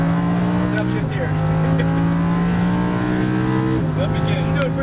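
A Lamborghini Huracan LP610-4 on a racing track accelerates hard with a loud, close engine note that climbs steadily, briefly drops at two upshifts, and then climbs again while a person talks over it.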